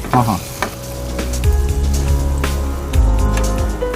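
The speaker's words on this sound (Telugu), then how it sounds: "చిట్టి మిర్చి, ఇది ఎర్ర మిరపకాయలు వేస్తున్నాను." Red chillies tossed into hot oil for a mango pickle tempering crackle and sizzle loudly and continuously, with stirring scrapes and occasional sharper pops, and no talking.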